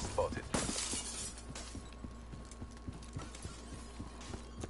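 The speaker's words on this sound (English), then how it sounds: "Who's breaking this glass?" Glass shattering in the video game Black Ops 3, a sharp crash at the start followed by a rapid run of small ticking impacts, with a voice talking over it.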